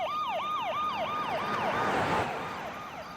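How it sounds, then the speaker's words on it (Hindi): A police siren wails in a fast repeating whoop, each cycle sweeping up and down in quick succession. It stays loud and steady with a faint road rumble underneath and no voices. "बैकग्राउंड म्यूजिक नहीं है, पुलिस की सायरन"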